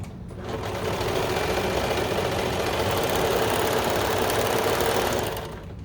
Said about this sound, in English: serge down the short end